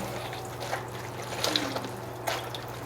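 Water squeezed and dripping from salted cabbage by hand while making kimchi, with soft trickles and a few brief splashy drips over a low steady background hum.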